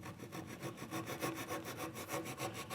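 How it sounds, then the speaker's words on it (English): Small hand saw cutting down knife walls in wood for a housing dado, a steady rhythmic rasp of back-and-forth strokes, close and alone with no talk. "I'm going to take a small saw and I'm going to saw down those knife walls."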